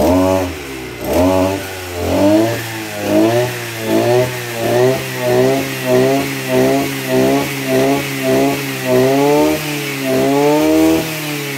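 A Maruyama MB2630 26cc two-stroke brush cutter engine, revved in loud, regular throttle bursts about once a second, each rising and falling in a buzzy whine, close up and alone.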